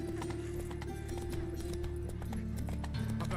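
Roach, the horse in The Witcher, clip-clops along in a steady rhythm of hoofbeats, close and moderately loud, with a brief neigh-like tone near the end.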